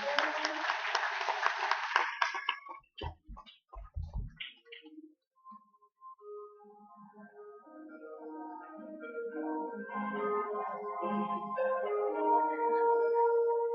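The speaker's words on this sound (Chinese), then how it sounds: "我们志工伙伴再次给他们热烈的掌声。" An audience claps warmly for volunteers at an outdoor temple training-camp event, a dense burst of applause lasting about two seconds before gentle music takes over.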